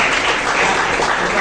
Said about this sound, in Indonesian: silakan kita tepuk tangan dulu